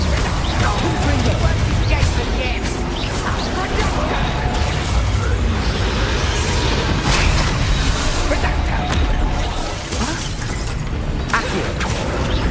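Confringo explosive spell blasts from the video game Hogwarts Legacy, heard as a dense, loud and continuous wash of crashing combat noise, with voices mixed in throughout.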